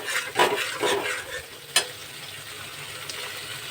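Ground spice paste stirred in hot oil in a pan, cooking for a wedding feast: a few quick scraping strokes of the spoon over a soft sizzle, then one sharp knock and a lighter, steady fry.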